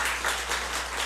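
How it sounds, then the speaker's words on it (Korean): Congregation applause in a church service welcoming a newcomer, a short steady patter of many hands clapping at moderate volume over a low hum. "박수 한번 하겠습니다"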